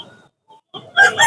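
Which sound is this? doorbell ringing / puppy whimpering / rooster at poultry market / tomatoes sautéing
rooster at poultry market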